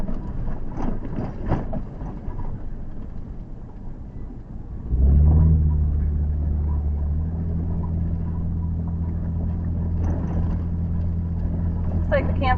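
A car drives down a washboarded dirt road past ranch land. The rumble is steady and continuous, with a deep engine drone entering about five seconds in. Speech is faintly present early on.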